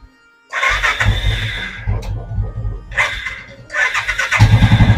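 A Royal Enfield Classic Bullet motorcycle engine cranks and fires up close by, with bursts of starter and engine noise before it catches and settles into a loud, low thumping idle.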